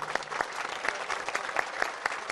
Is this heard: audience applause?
yes